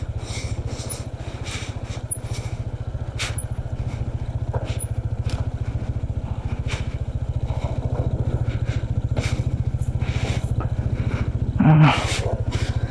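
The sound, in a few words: motor scooter climbing a mountain road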